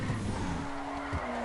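An Aston Martin sports classic in GTA 5 slides sideways into turn 2 at Silverstone, giving a steady loud tire skid over a droning engine note that holds for about a second and a half.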